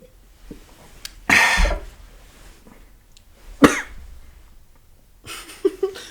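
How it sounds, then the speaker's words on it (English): A man coughs in two loud, harsh bursts a couple of seconds apart, then gives a weaker rasping cough and clears his throat at the end, with quiet breathing between. "I'll talk while Okay. he's coughing."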